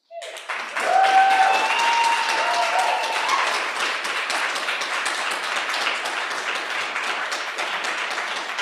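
An audience breaks into steady applause welcoming a poet at a reading, the clapping rising quickly and then holding as an even, dense patter for several seconds with no speech over it.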